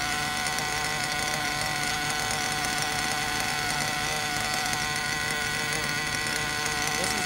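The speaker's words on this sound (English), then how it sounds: "because I've had the motor running so rich" A Werks B5 RC nitro engine running rich with its idle turned up during break-in, giving a steady, dense high-pitched buzzing drone that holds unbroken and loud throughout, with no talking.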